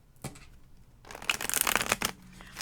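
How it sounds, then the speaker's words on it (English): A deck of tarot cards is riffled and shuffled close by in one burst of crisp fluttering slaps, preceded by a quieter, softer handling of the cards. "I need one more shuffle and we're going to do it."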